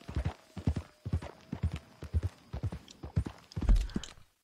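A horse's hooves clip-clop in Red Dead Redemption 2, a steady, even rhythm of hollow thuds on the ground, close and clear, with no talk over them.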